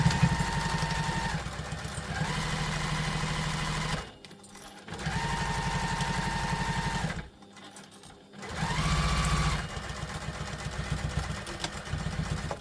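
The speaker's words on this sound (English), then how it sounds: "we're going to sew that with the full seam allowance" A sewing machine runs steadily while stitching a tote bag seam at full seam allowance, in three close, loud bursts separated by short pauses, with no talking over it.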